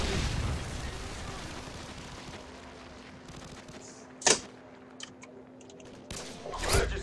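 A Predator missile from Modern Warfare 2 strikes with a sharp, brief blast in the middle of steady game background noise, followed by a few smaller pops and a second swelling burst near the end.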